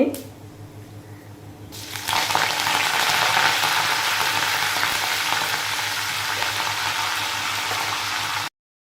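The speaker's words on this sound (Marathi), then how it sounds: "तेल छान गरम झालेले आहे त्यामध्ये जिरे मोहरी टाकायची आहे" Cumin and mustard seeds drop into hot oil for kadhi bhaji. After a quiet start, a loud, steady, crackling sizzle begins suddenly and continues close by until it cuts off abruptly.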